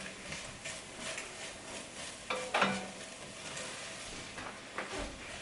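Onions and flour sizzle softly in a pot as they are stirred to toast the flour, a faint steady frying hiss with occasional spoon scrapes and small clicks.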